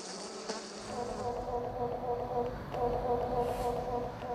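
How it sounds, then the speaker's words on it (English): Bees sipping nectar from flowers, a steady close buzzing drone of wings that holds for several seconds with slight swells in loudness, and no voices. "she has recorded the buzzing of bees as they sip nectar"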